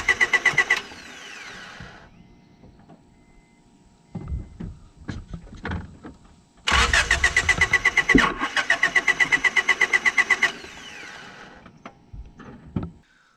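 A Honda Accord engine cranks without catching, the starter chugging in rapid rhythmic pulses for about a second, then again in a long steady run of several seconds, with clicks and shuffling in between and no firing.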